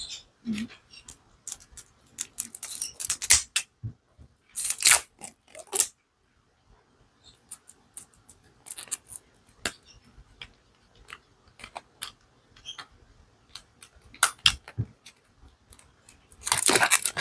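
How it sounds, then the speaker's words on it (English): Cellophane wrapping is peeled and crumpled off an astrology card box in bursts of close, crisp crackling, separated by short quiet pauses and ending in a louder crinkle. "So let's remove the cellophane first."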